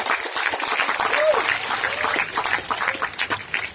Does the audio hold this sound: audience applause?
yes